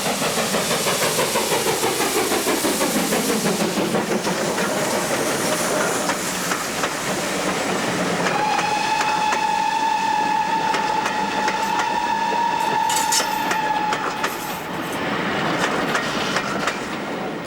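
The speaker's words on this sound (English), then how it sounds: "A train approaches Glundafrydwy on a stretch of line reopened in 1992." A train approaches Glyndyfrdwy on the Llangollen Railway, a loud, rolling rumble drawing nearer, then a sustained whistle or horn sounds for several seconds over the running noise.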